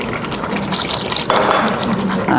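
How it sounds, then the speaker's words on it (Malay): Water splashes into a wok of simmering chicken rendang with kerisik, pouring in a short burst that swells halfway through and runs steadily, close and fairly loud. "kita masukkan sedikit je air"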